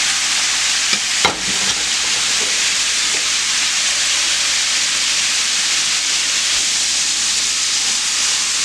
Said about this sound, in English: I'm going to let it fry just a little bit more